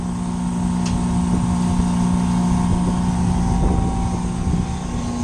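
A freezer compressor running steadily in a refrigeration unit with a frosted evaporator, a loud constant hum with a strong low tonal drone and a broad mechanical whir, unchanging throughout.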